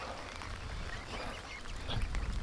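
Ducks quacking on a farm, a dense noisy flock chattering close by, steady throughout with a louder flurry near the end.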